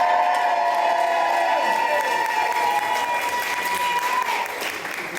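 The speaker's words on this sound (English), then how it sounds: "Let's have a big cheer for Florida!" Wedding guests during the speeches burst into loud applause and cheering, a sustained roar of clapping with raised voices in a room, slowly easing off toward the end.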